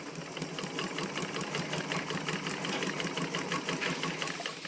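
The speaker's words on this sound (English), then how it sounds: "And you actually get right into that sewing." A sewing machine stitching a zipper, running in a fast, even mechanical chatter of needle strokes, steady and close throughout with no voices.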